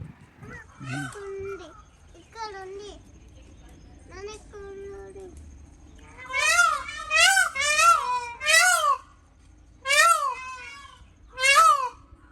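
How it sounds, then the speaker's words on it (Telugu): At a zoo, after some talking, a peacock lets out a run of loud, piercing calls, about seven wailing cries in quick bursts, close by. "ఆ పక్క నుంచి వేరే సౌండ్ వస్తుంది అంటే వేరే బర్డ్ ఏదో అరుస్తుంది కదా వేరే నెమలే"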